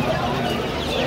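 Chickens cluck at a busy outdoor animal and bird market, the laying hens' calls short and mid-close amid constant crowd noise and market chatter.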